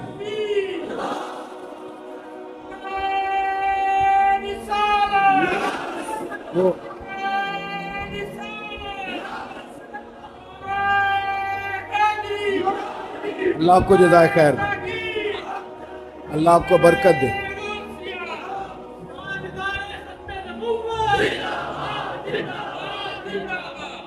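A crowd at an Islamic sermon gathering shouts religious slogans in loud, swelling bursts between stretches of a preacher's amplified speech, the massed voices peaking in the middle.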